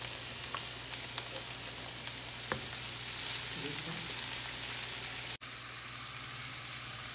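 Bell peppers and mushrooms frying in a pan, a dense, steady close sizzle with a few faint clicks of a utensil and one brief dropout.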